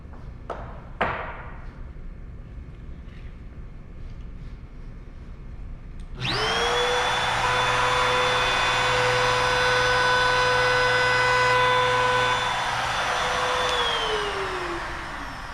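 A router trims wood veneer along a straight edge: a couple of sharp clicks, then the motor spins up to a loud, steady high whine that holds for several seconds before slowing and fading.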